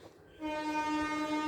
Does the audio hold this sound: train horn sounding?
yes